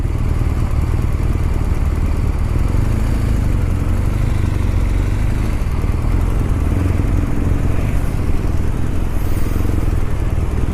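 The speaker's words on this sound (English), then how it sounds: "Yeah, there's a motorcycle behind." A loud, continuous engine drone of motor vehicles, like a motorcycle rumbling nearby in traffic, steady throughout with no talking.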